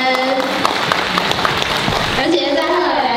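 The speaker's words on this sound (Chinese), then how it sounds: "掌声！" Wedding guests applaud at a ceremony in Taipei, a dense, steady wash of clapping that continues for the whole stretch with a few louder claps standing out near the front.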